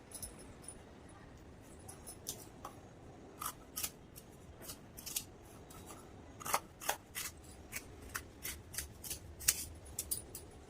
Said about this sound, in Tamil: 4 பீஸோடைய பட்டி பீஸும் இதில் வந்து ஒன்று மேலே ஒன்று அடிக்க வச்சு நல்லா ஒரே கட் பண்ணியாச்சு.